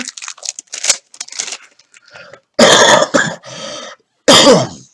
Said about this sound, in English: I still have a little cough, but nothing major.